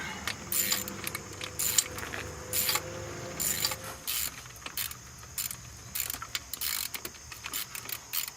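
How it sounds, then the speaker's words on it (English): A socket wrench ratchets in short clicking bursts while refitting an EGR valve on a 2007-2009 Chevrolet Equinox with the 3.4L V6, the quick metallic runs close and repeated over a low background hum. "Move into a smaller socket here, or a smaller socket wrench, so that way hopefully I can get at least a little bit more distance out of my turns."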